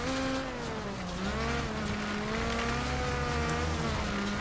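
Race car engines revving and whining in the video game Wreckfest, with rising and falling pitch as the cars accelerate and shift, plus some tire noise, loud and continuous with no talking.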